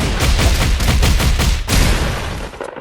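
A barrage attack move in the Roblox game Jujutsu Shenanigans unleashes a loud, dense flurry of rapid impact bursts, ending in one heavier hit before trailing off.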